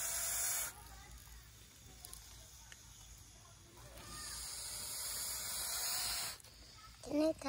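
An angry, frightened snake hisses loudly and close by in sharp breathy bursts: a short blast, a pause, a long sustained hiss, then another brief burst at the end, with quiet rustling in the gaps.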